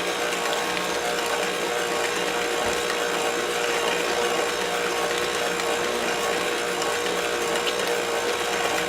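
An electric mixer creams banana nut bread batter after eggs are added one at a time, giving a steady, unbroken mechanical whir with a faint rattling texture that runs throughout, with no talking.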